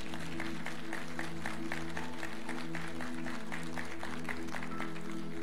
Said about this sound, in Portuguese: Vamos dar uma salva de palmas aí para esse homem de Deus aí.